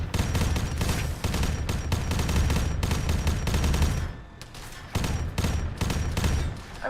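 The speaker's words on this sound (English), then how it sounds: "I'm engaging the one shooting at us" Heavy automatic gunfire in the Arma 3 military game during an airport hangar firefight, including a bolter weapon; loud, continuous bursts with a short lull before the shooting resumes.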